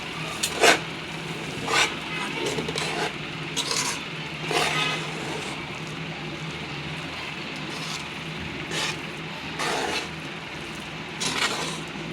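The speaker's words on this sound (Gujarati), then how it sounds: "ઓલો ચમચો લીધો ને ચાલો સરસ મજાનું મિક્સ કરી દે." A large spoon stirs churma laddu mixture in a pan, giving gritty scraping strokes at an uneven pace over a faint background hiss, close by and without speech.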